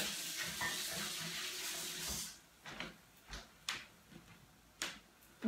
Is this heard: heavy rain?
no